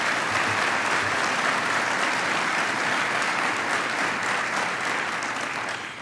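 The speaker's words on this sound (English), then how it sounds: "So please give them a round of applause as well." Audience applause at an economic summit, a dense, steady wash of many hands clapping close by that holds evenly for several seconds before starting to fade.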